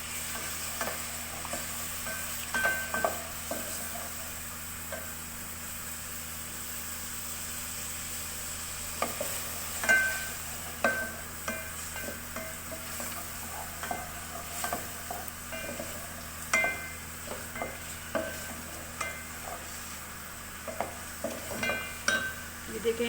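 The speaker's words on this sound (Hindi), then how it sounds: "टमाटर हमने काट के रखा था, ये डालेंगे। और इसको भूनना शुरू करेंगे।" Chopped tomato frying in a pan for bhuni moong dal, a steady low sizzle with repeated clinks and scrapes of a spoon stirring against the pan, moderately quiet throughout.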